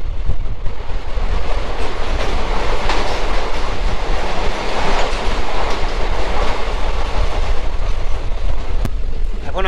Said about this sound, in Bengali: এখন আমাদের ট্রেন ঢুকছে লাটাগুড়িতে